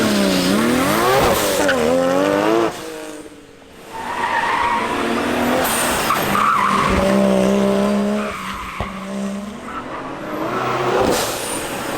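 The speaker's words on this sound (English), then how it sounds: "an all-wheel drive car that still dances around like a rear-wheel drive car, makes sounds like this" An all-wheel-drive Nissan Skyline GT-R drifts with a roaring engine and long, loud tire squeals that rise and fall, briefly easing before squealing again.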